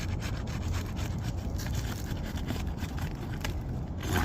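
A roofing shingle on a repair job is pried up to break its adhesive seal, giving a close, steady scraping and rubbing texture that runs throughout with no talk.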